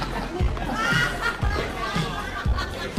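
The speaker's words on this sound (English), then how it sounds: "Sounds like a pretty happy crowd in there." A happy crowd chatters in another room, a steady muffled wash of overlapping voices with periodic low thumps underneath.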